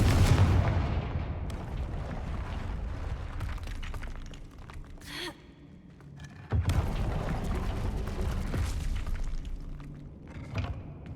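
Confringo fire spell blasts in the Hogwarts Legacy video game: loud, heavy booming explosions with rumbling debris, one big burst at the start and another past the midpoint, separated by a quieter lull with a brief crackle, and no talking.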